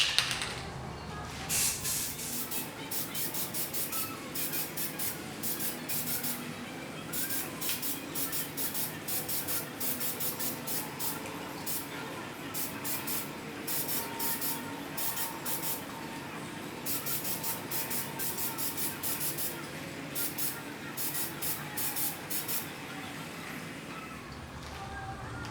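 Clear finish sprayed in heavy coats onto a wheel, a steady broadband hiss running continuously for the whole stretch with brief pulses and no talking over it.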